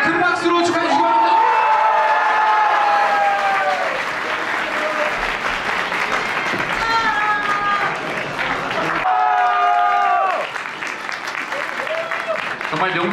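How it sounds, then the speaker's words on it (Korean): A boxing crowd at a super bantamweight title match claps loudly and steadily through a champion belt presentation, with scattered whoops and shouts and an announcer's voice carrying over the din. "챔피언 벨트를 누를 때 큰 박수로 축하해 주시기 바랍니다"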